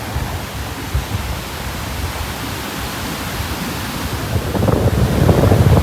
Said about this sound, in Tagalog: Ayan kung pansinin nyo, napakalaki ng mga alon.